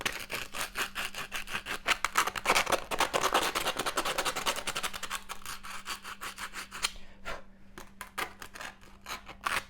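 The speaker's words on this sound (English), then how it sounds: "we're going to get some sandpaper and chip off all those metal edges" Sandpaper scrubbing the freshly cut metal edges of a dip tube for a bowtie spunding valve, a dense run of quick scratchy strokes, close and steady, thinning into sparse rasps near the end.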